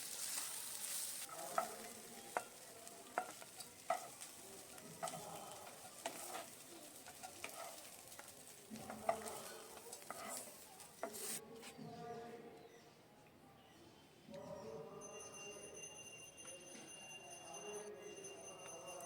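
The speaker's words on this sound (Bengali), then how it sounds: "তার মধ্যে আমি সোয়াবিনগুলো ভেজে নিচ্ছি পরিমাণ মতো নুন আর হলুদ দিয়ে" Soybeans frying in oil with salt and turmeric, a faint steady sizzle with intermittent sharp stirring clicks, fairly quiet and close, easing off near the end.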